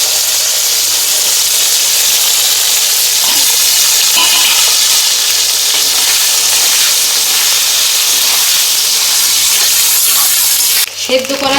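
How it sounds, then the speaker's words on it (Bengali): Onion and ginger fry with potatoes for a Bengali taro and hilsa curry, a steady loud hiss and sizzle running almost unbroken throughout, ending in a brief shift near the close. "এবার পেঁয়াজ আর আদাটা আলুর সঙ্গে ভেজে দিচ্ছি।"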